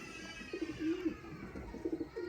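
Soft, low cooing from a Sialkoti and Chaudisa cross pigeon, a few rolling coos repeated in short bursts, close by over faint background noise.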